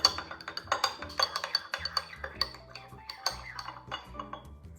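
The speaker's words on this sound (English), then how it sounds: "I will add into it a teaspoon of cornstarch, and I'll mix to make it dissolve" A spoon stirs cornstarch into lemon juice in a small bowl, giving a quick run of close, bright clinks and scrapes against the sides in an uneven rhythm, with no one speaking.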